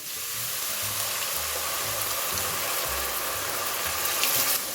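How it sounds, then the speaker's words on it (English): Red wine poured into a hot pan of lamb ragu: a steady, bright sizzle and hiss continuing throughout, close and evenly loud, with a low background hum and no speech. "Okay, now we're going to add the red wine."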